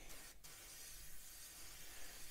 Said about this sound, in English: And then just spray along the edge.